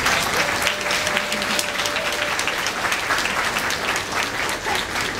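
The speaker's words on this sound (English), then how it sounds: "Students, please give these guys a round of applause." Students at a graduation ceremony applaud parents and grandparents standing in the audience, a dense, steady wash of many hands clapping that carries on for several seconds with no pauses.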